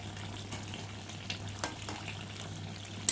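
Fried potatoes going into a chicken curry being cooked down with tomato, giving a soft continuous sizzle with a few brief stirring scrapes and a sharper clink near the end, no voices.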